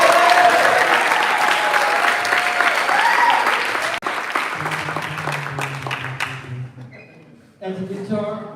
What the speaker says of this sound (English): Round of applause for Elliot.